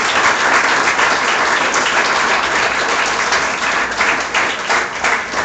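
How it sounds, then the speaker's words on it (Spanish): Loud, steady applause from a church congregation during a sermon, a dense continuous wash of clapping from many hands, close and unbroken, with no talking over it. "Dale un aplauso a Cristo de la gloria."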